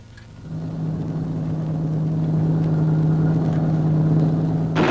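World War II military vehicles roll across the Ludendorff Bridge over the Rhine, its railroad tracks planked over, as a steady droning engine rumble builds gradually louder and holds.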